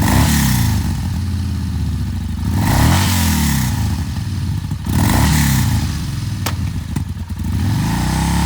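A used 2017 Yamaha Bolt R-Spec V-twin cruiser motorcycle revving close by, its engine rising and falling in several throttle blips with a deep, loud, throbbing exhaust note throughout.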